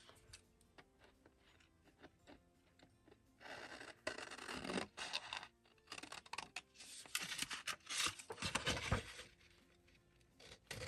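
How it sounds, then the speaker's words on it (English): Crisp snipping and rasping of scissors cutting through paper, in bursts with short pauses, close by and fairly loud. "I don't think these scissors cut straight"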